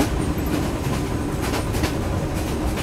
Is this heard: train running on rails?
yes